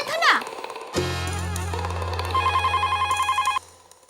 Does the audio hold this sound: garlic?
no